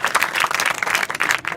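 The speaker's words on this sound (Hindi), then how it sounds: "ताली बजाए इनके लिए।" A school audience at an adolescent education program at Gyan Bharti School in Puranibasti, Mubarakpur claps together in loud, dense applause that rises and dips without a break.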